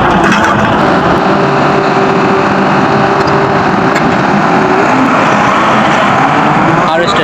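A wheat harvester's engine runs in a field in Sindh, Pakistan, as a loud, steady mechanical drone and rumble that holds constant throughout, close by.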